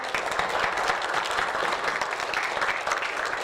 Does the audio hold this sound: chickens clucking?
no